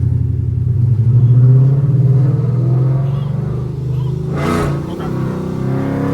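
A Chrysler 300 with a 5.7 Hemi and an SRT8 with a 6.1 Hemi race on the road, heard as a loud, close V8 engine rumble that swells and fades, with a brief whooshing burst partway through.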